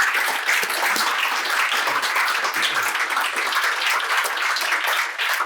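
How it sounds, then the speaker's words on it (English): An audience at a school transition evening gives a loud, sustained round of applause for three performers, with thick, continuous clapping from a close crowd filling the room. "let's give these three wonderful chaps a round of applause"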